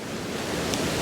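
Steady broadband rush of a waterfall in Glen Orchy, a continuous close roar of falling water with no voices.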